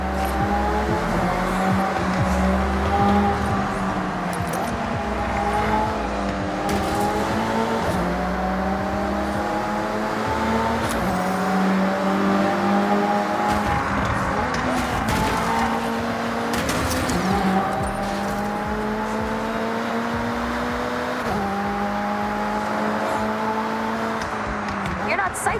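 Race cars in the Forza Horizon 6 video game, engines droning loud and continuous with rising and falling revs through gear changes and occasional tyre squeal, while voices talk over them.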